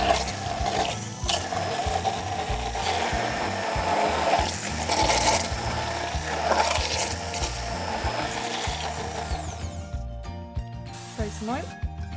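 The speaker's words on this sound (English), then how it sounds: "going to beat it with a hand blender" A hand blender beats pancake batter of flour, milk and eggs in a bowl, a continuous whirring motor with gritty scraping as the blades churn, steady for about ten seconds before switching off into quiet kitchen clatter.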